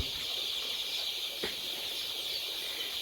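Steady high-pitched chirping and peeping from about 3,500 chicks fills a lit poultry shed, with a brief soft knock near the middle; no one speaks.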